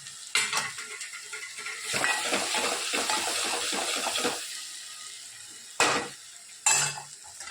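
Garlic, green chillies and spices sizzle in hot oil for a dal tempering, with stirring scrapes and bursts, followed by quieter moments and two sharp sizzling splashes near the end.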